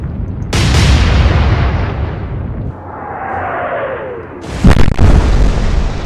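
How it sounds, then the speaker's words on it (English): Naval gunfire in the warship game Atlantic Fleet: loud booming shell blasts and impacts, with a descending whistle of an incoming shell between heavy hits, close and dominant without speech. "another shot hitting the Grash Bay in the forward section"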